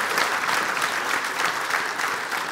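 Studio audience applause for a team on a women's club show, a dense, even wash of many hands clapping steadily at moderate loudness from start to finish.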